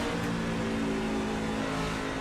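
A steady, tonal drone comes from an electric race truck held at full throttle around Charlotte Motor Speedway, with the revs never dropping. It is moderately loud and continuous, with buzzing harmonics.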